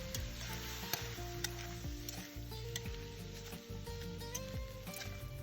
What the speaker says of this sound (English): Fry it until the eggs are cooked